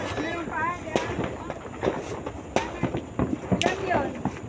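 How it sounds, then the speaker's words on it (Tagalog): New Year 2025 fireworks and firecrackers going off in sharp scattered bangs, several close pops over ongoing crackle, with people talking nearby. "May paputok dyan."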